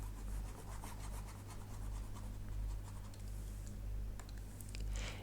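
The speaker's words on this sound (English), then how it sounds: "let me erase this one right over here" Writing being erased from a maths lesson board, a steady continuous rubbing and scratching that runs throughout with no speech, fairly close against a constant low hum.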